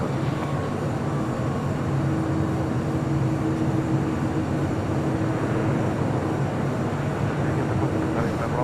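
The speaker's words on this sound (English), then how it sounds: "Star Alliance 777-200ER heading to Dulles, now on taxiway Bravo, heading to 25 right." A Boeing 777-200ER airliner taxis at LAX, a steady, loud jet-engine roar with low rumble and a faint whine, continuous and unchanging throughout.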